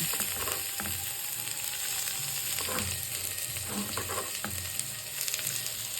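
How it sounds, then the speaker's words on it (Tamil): Steady sizzling of chopped onions frying in a pan, with intermittent scraping and stirring clatter throughout. "வதக்கிக்கலாம் நல்லா வதங்கட்டும்"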